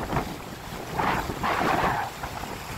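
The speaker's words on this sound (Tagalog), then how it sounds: "Grabe, lakas ng hangin." Strong wind roars across the microphone in rough gusts during days of rain and flooding, swelling louder for a second or two, with a low rumble underneath.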